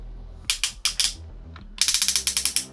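Ratcheted hip joints on a Fans Hobby MP Scale MB-01 Archenemy transformer toy click in quick close bursts, sharp ratchet clicks in short groups separated by brief pauses.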